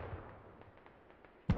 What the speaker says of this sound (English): No, continue to mortar towards that radio.